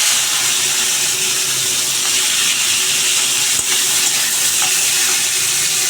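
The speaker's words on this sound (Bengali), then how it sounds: "এখানে আমি বরবটিটা চাপিয়ে দিচ্ছি আগে। এইদিকে বরবটিটা ভাজা হোক।" Long beans fry in hot oil in a wok with a loud, steady, hissing sizzle that continues unbroken throughout, heard up close.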